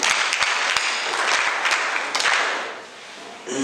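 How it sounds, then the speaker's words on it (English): Students at a high school conference clap for a speaker, a dense burst of applause with sharp individual claps that thins out and eases off near the end. "Can you clap for her?"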